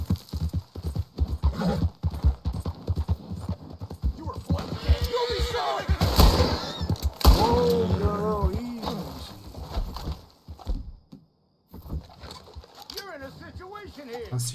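Horse hooves clip-clop at a steady gallop in the video game Red Dead Redemption 2, with a horse whinnying midway and someone talking loudly over the rhythmic hoofbeats.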